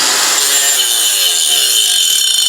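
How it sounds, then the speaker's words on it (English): A flap wheel grinds down a welded metal patch on a junkyard Cadillac body, a loud, close, continuous abrasive roar with a steady high whine, unbroken for the whole moment. "Use that flapper wheel for that."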